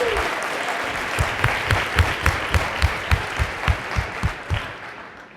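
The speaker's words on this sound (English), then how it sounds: "Please give a final round of applause for these gold level recognized schools." A crowd at the 2019 PBIS Leadership Conference applauds recognized Wisconsin schools: a steady, full wash of clapping with crisp individual claps standing out, tapering off toward the end.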